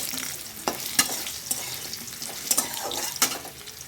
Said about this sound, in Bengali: এবার আলু দিয়ে দিচ্ছি, আলুটা ভাজবো।